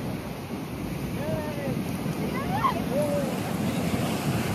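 Waves wash in at a beach during a Ganesh idol immersion, a steady broad roar of surf with wind buffeting the microphone and faint voices in the background.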